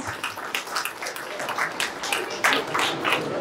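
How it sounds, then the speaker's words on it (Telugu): Audience at a get-together lucky draw clapping steadily and loudly, a dense patter of many hands sustained throughout without pause. "ఒక్కసారి గట్టిగా క్లాప్స్."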